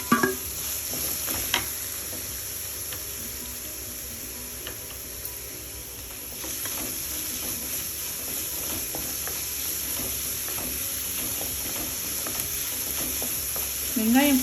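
Onions fry with browned cashews in a pan for paneer butter masala: a continuous bright sizzle with occasional stirring scrapes and small ticks, heard close and steady without speech.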